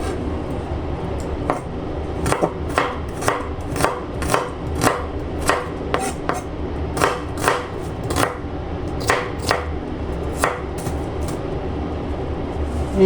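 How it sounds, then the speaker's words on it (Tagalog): A peeled onion being sliced with a knife on a cutting board for a bitter gourd and egg stir-fry: about twenty crisp, close knife taps in a steady rhythm over a low background hum, with no talking. "Ito na naman yung sibuyas. Nagbalat na naman ako ng isa. Ayan. Then slice na naman natin."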